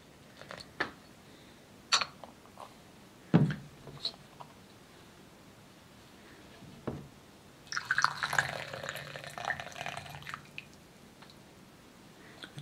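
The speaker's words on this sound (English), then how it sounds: "I'm going to give a quick rinse to the leaves to see which other fragrances come out of the leaves." Hot water at about 90 °C is poured over Yunnan black tea leaves for a quick rinse, with a few scattered drips and clinks, then a soft, steady splashing pour lasting a few seconds, close by.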